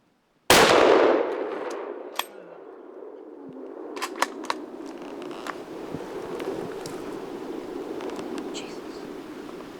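A single loud, sharp gunshot from a bear hunt cracks close by and is followed by a long ringing outdoor decay, then faint clicks and rustles.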